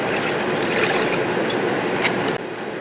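White vinegar poured steadily for a pickled-egg brine, a continuous close liquid trickle and splash that runs evenly for a few seconds before easing off slightly near the end.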